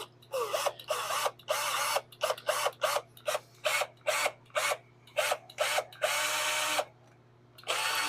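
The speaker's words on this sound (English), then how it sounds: "I got the tap on the end of this drill here." A power drill fitted with a tap whirs in short repeated bursts, cleaning threads in holes on a 1952 Ford, stopping and starting rhythmically, with a longer run near the end, close up under a constant low hum.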